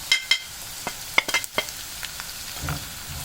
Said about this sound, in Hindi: ये देखिए लहसुन और हरी मिर्चें यहाँ पे भून चुकी हैं। अब ये मसाले इसमें शामिल कर दूंगी।